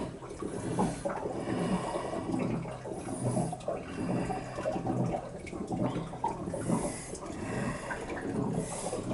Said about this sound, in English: draining the boiler out.